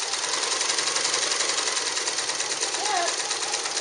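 A Nelco zigzag sewing machine runs steadily, sewing a medium width zigzag stitch with a fast, even mechanical whir and rapid needle chatter, loud and close throughout.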